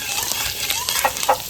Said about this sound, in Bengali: এবার আদাটা ফোড়ন দিয়ে দিচ্ছি।